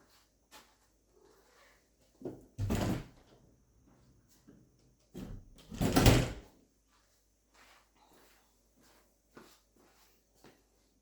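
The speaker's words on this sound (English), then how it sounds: "You waiting for the door to be opened?" Two brief bursts of a door or cupboard being opened, separated by quiet, with faint clicks and small knocks scattered around them.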